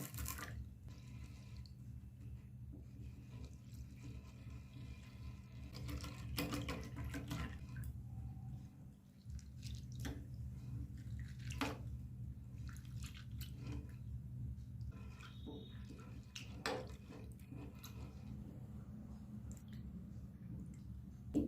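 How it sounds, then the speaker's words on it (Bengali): Split peas (matar dal) are washed by hand in water, with soft sloshing, squishing and dripping that goes on for the whole stretch. The sound is close and quiet, and no one speaks. "ডালটা এবার আমি 2 থেকে 3 বার জল দিয়ে ভালো করে ধুয়ে নেব"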